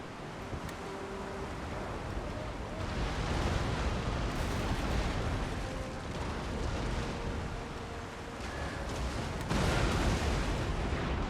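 Naval guns firing during a destroyer battle in a Netherlands imperial destroyer game, with booming shots and rumbling blasts rolling over a continuous roar of wind and sea, no voices.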